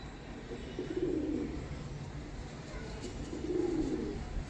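Pigeons coo in two low rolling bouts, one near the start and one toward the end, moderately close over steady background noise with no talking.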